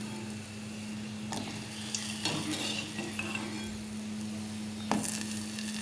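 Upvas kachori fry in hot oil with a steady close sizzle and bubbling, a few clinks and knocks of a utensil against the pan breaking through at intervals.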